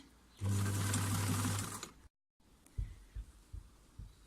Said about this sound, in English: Sewing at 1 centimeter.